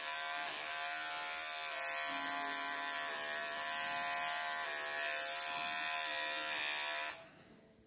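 Electric clippers buzz steadily up close while trimming matted fur from a long-haired cat's belly, a constant motorized whine that cuts off near the end.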